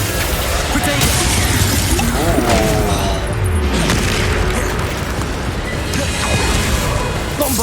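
A Bombarda explosion spell cast in Hogwarts Legacy: dense, booming blasts and crashing debris filling a continuous loud combat din, with voices heard among the noise.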